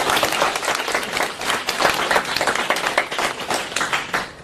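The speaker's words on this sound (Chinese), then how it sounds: "你不鼓掌我不讲了。" Audience applause at a Buddhist dharma talk gathering in Paris, a dense, steady wash of many hands clapping that carries on without a break for several seconds.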